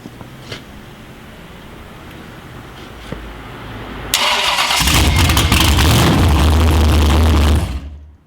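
A freshly built Ford 331 stroker V8 cranks briefly after quiet garage sounds, then fires up and settles into a loud, rumbling idle for a few seconds before cutting off.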